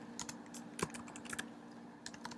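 Quiet, fairly close tapping of keys on a computer keyboard while coding, a brisk irregular run of clicks with a short pause in the middle, steady low hum underneath and no talking.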